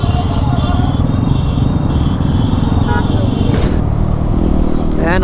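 A motorcycle pulling away with a rough, steady engine rumble and clatter close by, while people talk over it.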